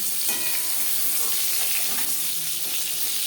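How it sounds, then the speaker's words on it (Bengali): Pointed gourd (potol) fries lightly in oil for a vegetarian tel potol dish, giving a dense close sizzle with soft stirring sounds and no voices. "আমি এখানে একটু হালকা করে ভেজে নেব এইভাবে পটল ভাজলে"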